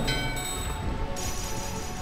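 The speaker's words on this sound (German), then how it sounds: "Beide Glocken läuten im Einklang." Two bells ring together in unison in Final Fantasy IX, in Burmecia, a steady resonant chime with sustained ringing tones that hold throughout and a brighter shimmer entering partway, layered over a dense low background.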